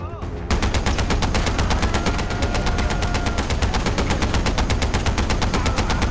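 Rapid automatic gunfire in Far Cry 4, a loud, relentless stream of evenly spaced shots rattling without pause after a brief opening moment, close and dominant.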